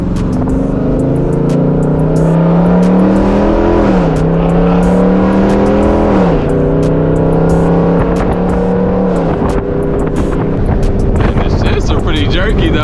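Whipple-supercharged Jeep Grand Cherokee Trackhawk engine revving hard, pitch climbing then dropping with sharp paddle-shift downshifts, loud and close with wind rush; a voice speaks briefly over it.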